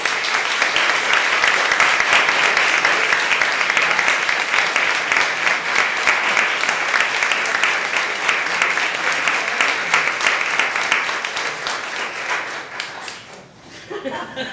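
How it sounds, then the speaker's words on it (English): A lecture audience welcoming two speakers to the stage with sustained, dense applause from many hands, loud and even for a long stretch before tapering off near the end, with a few voices underneath. "Let's give them a round of applause."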